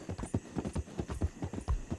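Horse hooves clip-clop at a steady walking rhythm in Red Dead Online, about ten close, clear strikes over a swampy night setting on train tracks and a bridge, with no talk.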